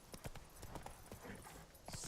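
Horse hooves pounding in the open-world game Witcher 3, a rapid galloping clip-clop rhythm that stays steady and fairly close with no talk over it.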